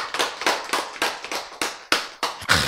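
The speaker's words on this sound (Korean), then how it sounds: "박수!" An audience at a Bible lecture claps together in a steady series of sharp, close hand claps with roughly even spacing, picking up slightly at the end.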